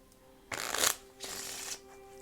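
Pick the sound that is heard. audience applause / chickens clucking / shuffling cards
shuffling cards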